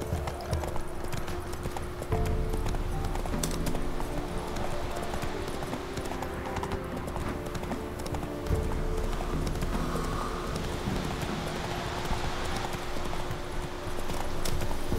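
Roach the horse trotting in The Witcher 3, a steady clip-clop of hooves over continuous outdoor ambience and game music, sustained and fairly loud throughout.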